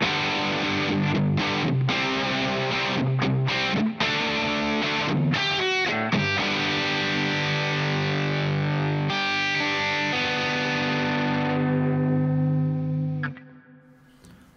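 An electric guitar plays through an emulated Les Paul with heavy distortion and no pedal. Loud sustained chords ring with brief choppy breaks, then the sound fades out at the end.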